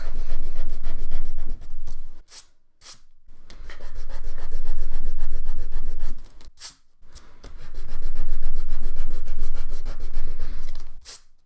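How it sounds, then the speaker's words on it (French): Eraser rubbing leftover pencil marks off watercolor paper during a snowdrop painting, heard as close, steady scrubbing strokes in several bursts with brief pauses between, alone without talk. "Je vais en profiter pour gommer un petit peu aussi là, le crayon à papier qui reste dans du blanc."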